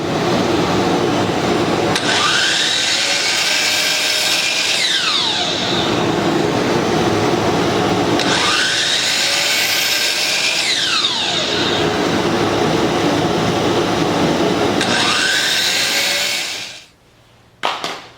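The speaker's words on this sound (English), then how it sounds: "that's going to allow us to make the kerf cuts on this material" A power saw blade makes kerf cuts in trim for an arched window, a loud, close, continuous roaring whine across three long passes, with shifting tone as each cut runs through, then stopping abruptly.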